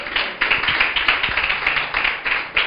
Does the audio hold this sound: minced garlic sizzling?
no